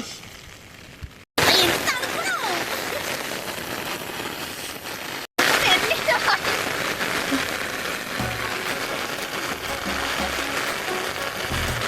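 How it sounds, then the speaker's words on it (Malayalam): Steady rain hiss pours down throughout, broken by two brief dropouts, with faint voices and small knocks in the background. "മഴ പെയ്യുണ്ട്, അപ്പൊ നനയനല്ലേ?"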